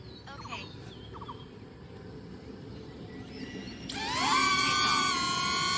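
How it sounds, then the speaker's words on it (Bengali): DJI Neo mini drone's motors spin up for takeoff, starting abruptly partway through as a rising, high-pitched multi-tone whine that settles into a steady, close buzz over a low background murmur. "ভয়েস কমান্ড দিয়ে এটাকে উঠবে।"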